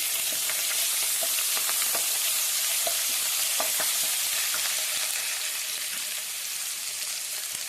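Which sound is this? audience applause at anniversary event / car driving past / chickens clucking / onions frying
onions frying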